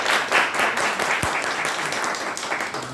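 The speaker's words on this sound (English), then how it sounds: "So please give a round of applause to our Toastmasters." Steady applause from an audience at a Toastmasters club meeting, dense clapping filling the whole stretch at moderate loudness with no voices.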